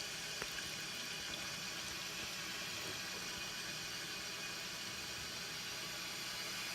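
Constant hissing flow of water filling a RODI filter canister, steady and unbroken for several seconds, no voices.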